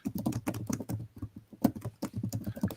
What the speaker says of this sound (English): He's getting that angry typing.